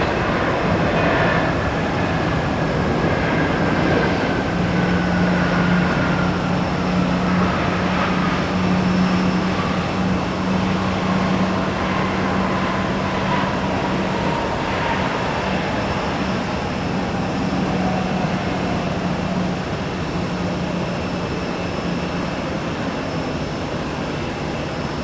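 Jet airliners taking off at Tampa airport make a loud, continuous engine roar with a steady low drone and a slowly falling whine, holding at a constant level throughout.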